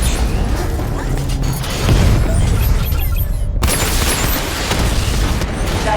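Barrage attack in Batman: Arkham Knight, a loud, continuous wall of rapid explosions, crashes and mechanical clatter that carries on without a break, with a short sharp cut partway through.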